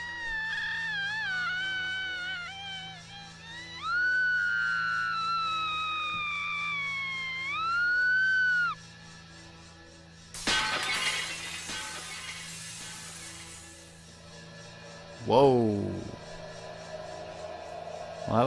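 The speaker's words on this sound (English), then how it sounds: "Was a scream that could break glass." In the video game Haunting Ground, a long high-pitched scream, wavering and sustained, breaks a mirror with a sharp shattering crash, and a second burst of breaking glass follows moments later.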